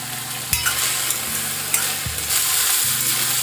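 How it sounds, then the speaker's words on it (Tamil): Brinjal stirred in a frying pan for a Tamil kathrikai gotsu, with steady soft sizzling and a few sharp spatula scrapes and knocks against the pan. "கத்திரிக்காய் வதங்கிடுச்சுங்க"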